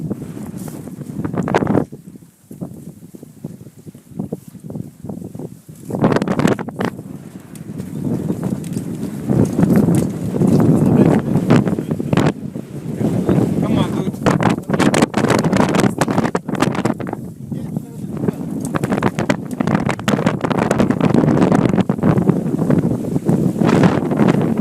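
A strong gust strikes a sailing yacht, producing loud, sustained rushing wind buffeting and microphone roar with brief lulls, mixed with water and hull noise and no speech.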